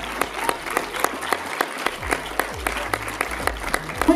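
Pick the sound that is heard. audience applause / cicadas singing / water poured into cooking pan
audience applause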